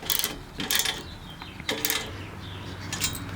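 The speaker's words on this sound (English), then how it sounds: "or the ratchet to tighten these" Ratchet wrench tightening bolts while assembling an ALTA Rack, with bursts of rapid metallic clicking in several separate runs, close and fairly loud over steady background noise.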